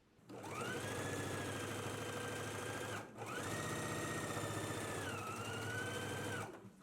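A sewing machine stitches a waistband onto pants in two long, steady runs of rapid whirring, broken by a brief pause, close and even in loudness.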